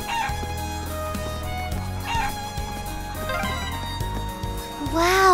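Chickens cluck and a rooster crows in the video game Trails of Cold Steel, short squawks breaking through over steady background music, with a louder crow near the end.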